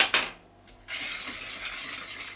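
Tiramisu pudding ingredients stirred in a pot before the heat is on, a spoon scraping and swishing in a steady, close rhythm after a couple of sharp clinks at the start.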